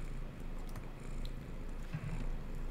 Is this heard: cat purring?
yes